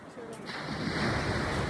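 Ocean waves wash onto a beach in Busan with a broad, steady rushing surf and some wind noise, fairly close.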